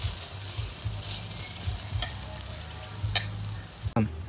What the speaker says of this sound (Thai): ตอนนี้พริกกับ กระเทียมที่เราผัดไว้ เหลืองแล้วนะครับ